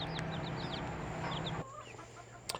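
Young pullet chickens, a few days old, cluck and chirp in short high calls with a steady hum underneath, fairly faint and close, with no talking.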